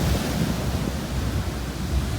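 Ocean waves wash onto a beach in a continuous, close rumbling surge of noise with gentle swells, heard alone without voices.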